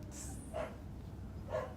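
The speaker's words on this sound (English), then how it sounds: "he is always barking" A dog barks twice, about a second apart, each a short moderately loud bark over a steady low background hum, with no talking.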